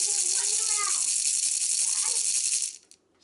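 A shaker filled with tiny seashells is shaken steadily and close up, giving a bright, continuous rattling hiss that runs for almost three seconds before stopping abruptly; a voice briefly overlaps near the start.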